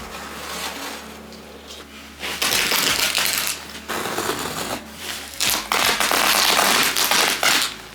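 An old, heavy carpet is cut into strips during a home renovation, with rough tearing and crunching bursts that come and go, close and fairly loud, over a low background hum.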